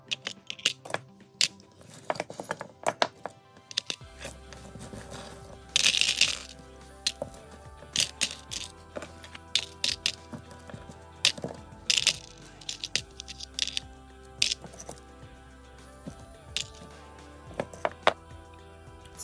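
Metal nail tools clink and clatter as they are dropped one by one into a soaking container for disinfecting, giving sharp, repeated metallic taps and small crashes at close range.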